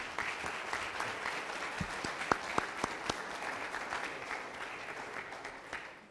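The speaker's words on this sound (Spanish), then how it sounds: "Un fuerte aplauso, por favor." A conference audience claps steadily for several seconds, a dense, even patter of applause with a few sharper claps standing out.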